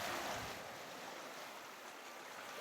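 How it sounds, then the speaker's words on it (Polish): Sea surf surges and washes against volcanic rock and lava on the shore of Ascension Island, a steady broad hiss with a heavier rush at the start, close and moderately loud, with no voices. "ta piękna safirowa, niebieskawa, niebieściutka, szumiąca i cieplutka woda"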